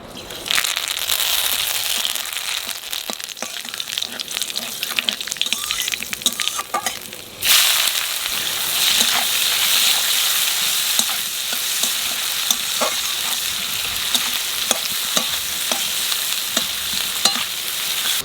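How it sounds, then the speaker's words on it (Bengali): Black cumin seeds and bay leaves sizzling in hot oil in a pan for a river-fish dish: loud, continuous close frying hiss with crackles and stirring scrapes, swelling sharply partway through. "আমার তেলের মধ্যে দিয়ে দেবো কালো জিরে আর তেজপাতা"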